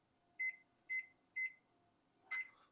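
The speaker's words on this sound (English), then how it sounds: "you're gonna turn on the oven" An oven control panel gives four short, clear electronic beeps as it is switched on to bake at a low temperature, the first three evenly spaced and the last one slightly later and harsher.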